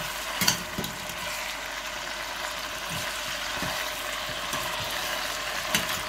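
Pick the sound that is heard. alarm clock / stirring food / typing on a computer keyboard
stirring food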